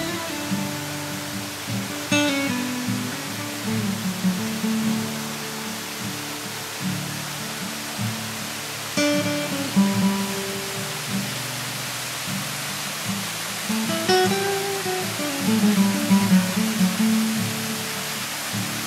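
Steady broadband rush of the Narokamba Tsien, a 600-foot waterfall about two kilometers from Waromung village in Mokokchung, a continuous close roar with faint tonal sounds over it.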